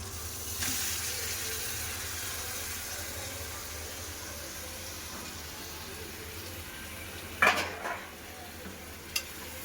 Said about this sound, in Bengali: মশলার সাথে ভালো করে মাংস কষে কষা হয়ে গেছে